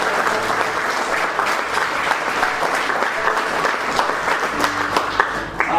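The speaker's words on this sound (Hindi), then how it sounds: "मैं उनका भी तालियों से स्वागत चाहूंगा" Steady, loud applause welcoming chief guests at a stage event, continuous hand clapping from a sizeable crowd, with faint voices mixed in.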